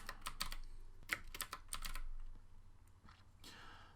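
Keystrokes on a computer keyboard while building a CSS grid layout, a quick irregular burst of clicks in the first two seconds and a few more near the end, close and moderately loud with no talking.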